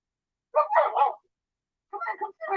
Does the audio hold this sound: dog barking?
yes